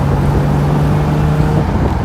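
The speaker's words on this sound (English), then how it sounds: "Second gear. 3 grand, shift to third. Give it a little bit of gas." Jaguar E-Type engine pulling steadily from inside the car while driving on a road, a sustained loud drone with a held engine tone throughout and road noise underneath.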